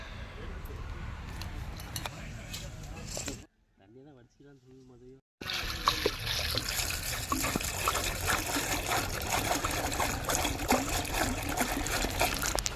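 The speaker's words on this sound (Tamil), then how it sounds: "நம்ம பச்சை தண்ணி ஊற்றி வச்சா தான் நம்மளுக்கு காடை முட்டை நல்லா உரியும்" Cold water pours and splashes over boiled quail eggs in a vessel, a steady rushing trickle with a brief quieter gap partway through, while a person talks nearby.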